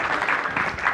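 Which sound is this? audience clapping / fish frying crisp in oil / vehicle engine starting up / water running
audience clapping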